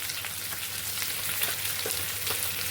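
Potatoes being added to a pan already frying with peanuts and tomatoes, giving a steady, moderately quiet sizzle with faint crackles and no talking.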